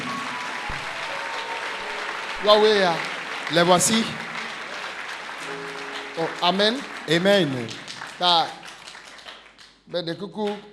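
A church congregation in Dakar applauds its pastor and his wife, with waves of loud clapping and cheering mixed with someone speaking over a microphone in a large, reverberant hall.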